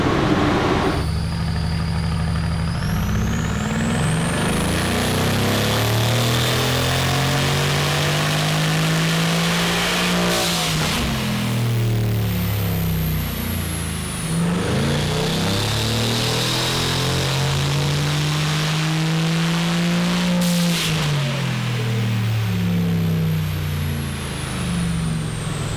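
RENNtech Mercedes-AMG GT R with swapped catless downpipes revving on a dyno, loud repeated pulls with pitch sweeping up through the gears then dropping back, close and continuous without talk.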